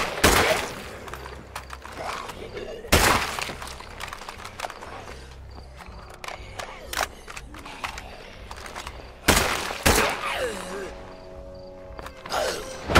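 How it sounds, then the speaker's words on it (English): Sharp gunshots ring out in State of Decay 2 in a zombie-infested lethal zone, a handful of loud isolated cracks spread over several seconds among footsteps, clattering and someone talking. "gonna start shooting stuff in here"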